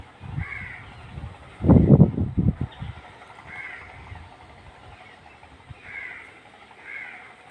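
Several crow caws ring out at intervals, some quite clear and mid-distance, over low background rustling and a brief burst of closer noise.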